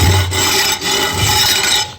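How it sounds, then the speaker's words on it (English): Scrapers drag across a concrete pool wall being prepped for plaster, a close, loud, continuous rasping scrape with a few short breaks between strokes. "we're going to use scrapers to get this whole thing smooth"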